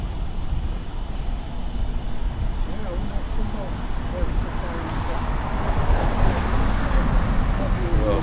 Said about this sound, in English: Quite a few cars coming in.